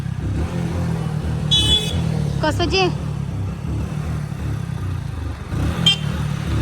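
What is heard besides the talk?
stalled car being started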